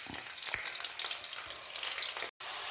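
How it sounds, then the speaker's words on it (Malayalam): Grated breadfruit tossed into a pan of onion and curry leaves fried in oil, giving a loud, continuous sizzle with crackling spatters and a brief cut near the end. "ഉള്ളിയും കരിയാപ്പലയും ഇട്ടു മൂത്ത് കഴിയുമ്പോൾ നമുക്ക് ഈ കറി ഈ കറി അതിനകത്തേക്ക് കുടഞ്ഞിട്ട് ഇളക്കി തോർത്താം"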